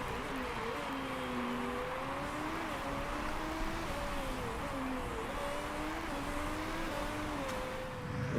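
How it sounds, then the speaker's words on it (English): A race car from the Motorsport Manager game laps steadily, its engine tone rising and falling through corners as a continuous, moderately loud drone with no talk. "As Valdez coming round now, last few corners"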